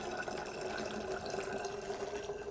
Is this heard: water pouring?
yes